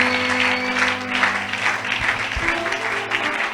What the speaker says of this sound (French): Est-ce que tu peux acclamer le Seigneur?